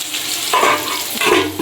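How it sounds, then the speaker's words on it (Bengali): Radish greens fry in a pan at home with a close, continuous sizzle. Brief stirring scrapes cut in twice. "তো আমি মূলোর শাকটা ভেজে নিই"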